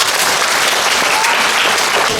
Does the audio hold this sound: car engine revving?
no